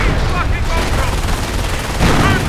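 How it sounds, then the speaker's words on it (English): Panzer tank in Company of Heroes firing with its rapid fire ability: loud, dense bursts of gunfire and booming impacts in a battle scene, with a voice partly talking over them. "The Panzer is able to fire more quickly."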